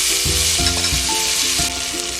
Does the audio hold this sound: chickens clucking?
no